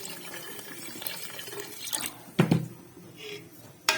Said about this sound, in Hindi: तो इसमें पानी डालते हैं